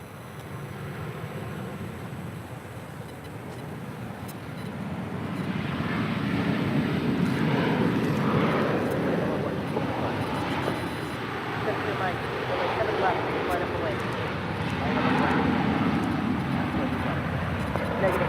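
Qatar Airways airliner, flight 740, rolling down a runway at LAX: a broad, steady jet roar that swells louder after a few seconds and holds, with radio voices talking over it.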